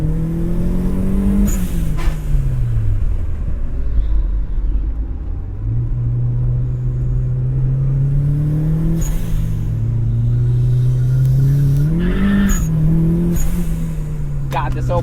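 A budget turbocharged Mazda Miata with an open differential drives hard on a race track, its engine loud and close, rising and falling through gear changes and revs, with a driver talking over it at times.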